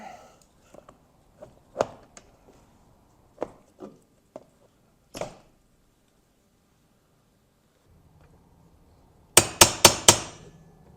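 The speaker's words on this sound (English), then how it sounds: "Couple hits with the brass punch and I was able to get this collar loosened up" A brass punch is struck with a hammer to loosen the wiper collar on a BMW E46, with scattered sharp metallic taps, then a quick burst of four loud ringing hits near the end.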